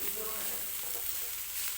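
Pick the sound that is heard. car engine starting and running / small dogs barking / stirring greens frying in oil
stirring greens frying in oil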